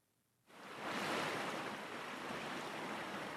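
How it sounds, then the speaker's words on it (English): Rushing water of a river or stream, a soft, steady broadband hiss that swells in after a brief silence and then flows on evenly, faint and continuous with no voices. "listen for key tones in the rushing waters."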